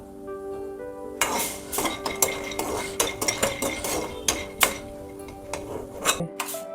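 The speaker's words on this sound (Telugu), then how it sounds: "ఫస్ట్ పల్లీలు వేయించుకుంటున్నా." Peanuts roast in a pan on the stove as a utensil stirs them, producing a busy run of close metallic clinks and scrapes with dry rattling of the nuts, starting abruptly and stopping near the end, no talk.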